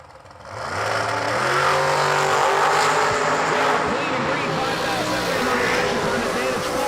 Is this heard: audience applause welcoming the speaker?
no